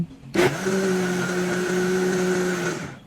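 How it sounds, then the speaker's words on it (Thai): A kitchen blender whirs through corn kernels and pandan-infused corn cooking water, starting abruptly after a brief quiet moment and holding a loud, steady motor drone for a few seconds before winding down. "เราก็ใช้เครื่องปั่นปั่นเลยนะคะ ปั่นให้ละเอียดเลยค่ะ"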